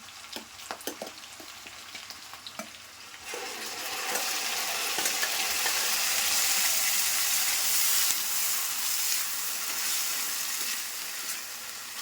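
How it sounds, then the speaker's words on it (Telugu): Onion paste frying in sesame oil: a few clinks at first, then a loud, steady sizzle swells and holds close up, with faint stirring scrapes underneath. "నెక్స్ట్ ఆనియన్ పేస్ట్ వేద్దాం."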